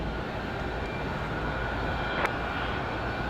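A Republic Airways jet airliner at Raleigh-Durham airport on a windy day gives a steady, broad engine roar that holds level throughout, with a brief brighter whine near the end.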